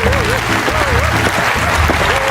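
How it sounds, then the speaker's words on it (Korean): A church children's class claps loudly to welcome a guest teacher. The close, continuous applause is mixed with music carrying a wavering melodic line. "자, 박수로 환영해주세요."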